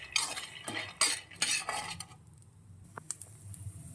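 Raw peanuts dry-roasting over a low flame in a pan, stirred with a utensil that scrapes and clinks against the metal, with their skins crackling. Short bursts of stirring come up close and then ease into quieter, sparse clicks.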